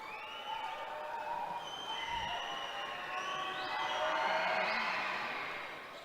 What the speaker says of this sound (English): The traveling Braves crowd making some noise.